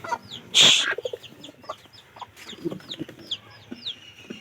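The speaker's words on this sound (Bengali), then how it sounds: "ও মুরগি বয়েছে" A hen clucks close by in a rural yard. One loud squawk comes early, then steady soft clucks mixed with many short, high chirps throughout, and no talking.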